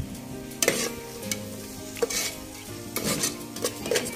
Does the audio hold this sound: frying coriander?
yes